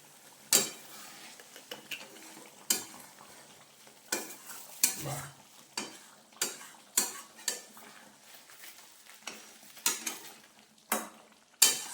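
Katla fish rezala being stirred with a spoon in a cooking pot after ground garam masala is added, giving repeated sharp scraping clacks at an uneven rhythm over a soft simmering sizzle, close and fairly loud with no talking.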